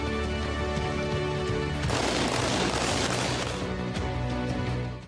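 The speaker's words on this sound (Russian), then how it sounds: "во время визита в Чечню Путин, среди прочего, успел посмотреть на стрельбу сына Рамзана Кадырова Адама" Sustained gunfire from a shooting range session in Chechnya, a dense continuous burst of rapid shots rising after the first two seconds over a steady loud background, heard alone without talk.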